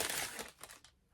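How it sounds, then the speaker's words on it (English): Crinkly paper wrapping on a round present being handled at Christmas, a burst of close, dense rustling and crumpling that thins out over about a second. "Let's do a bit more rustling."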